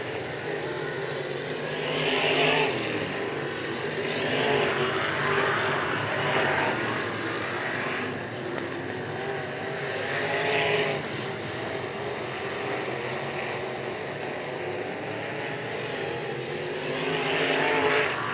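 UMSS wingless sprint cars race on a dirt track, a loud, steady roar of engines that swells and fades as cars pass, heard from trackside with no talk over it.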